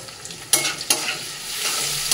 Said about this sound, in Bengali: পেঁয়াজ, কালো জিরে, দেখো তেজপাতা ভাজা করে ভাজা হয়ে গেলে মশলাগুলো অ্যাড করে দেবো।